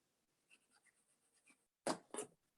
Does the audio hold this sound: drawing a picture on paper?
yes